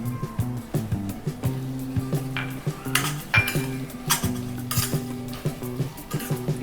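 A spoon stirs cashew masala curry with fresh coriander in a pan, giving repeated clanks and scrapes against the metal in an uneven rhythm over a low sizzle, close and without talk.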